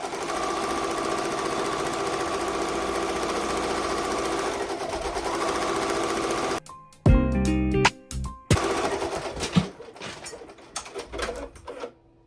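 An embroidery machine runs a rapid, steady tack-down stitch over a glitter appliqué, then stops and restarts in short mechanical bursts with clicks and whirs near the end.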